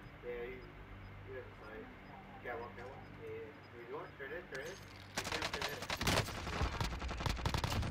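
Gunfire in Call of Duty: Modern Warfare starts as faint scattered shots under chatter, then breaks into a loud, rapid burst of automatic fire lasting several seconds while voices talk over it.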